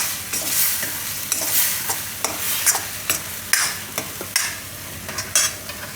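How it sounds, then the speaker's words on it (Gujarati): Masala sizzles and fries in hot oil in a pan for winter-style Maggi noodles, a steady crackle broken by repeated scraping stirs of a spoon, close and fairly loud with no talking. "થોડીક વાર આ મસાલો પકાવી લેવો આમાં તેલમાં."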